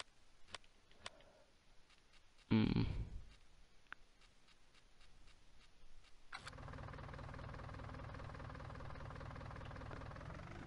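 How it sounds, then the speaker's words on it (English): A tractor engine in the Farming Simulator 19 video game, first quiet with scattered clicks and a brief loud burst, then a steady droning engine tone rising in at mid-clip and running evenly to the end. "change the volume of my tractor later"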